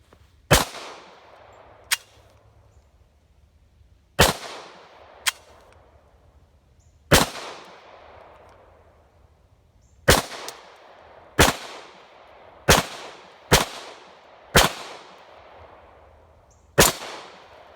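Hi-Point pistol shots fired at bowling pins outdoors, about a dozen sharp, loud reports spaced irregularly a second or two apart, each ringing off with a short echo.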